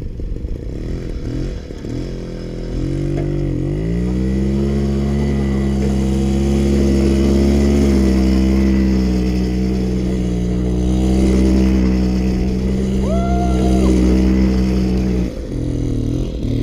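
1966 Motoconfort AU79 moped ridden through a snowy field, its small two-stroke engine buzzing close and loud, rising in pitch as it pulls away and holding a steady drone before easing off.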